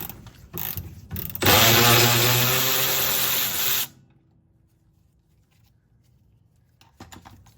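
Power tool spinning off a tie rod end nut on a 1963 Ford Falcon front suspension, a loud, close, steady whir of about two and a half seconds, framed by brief clatter before and after.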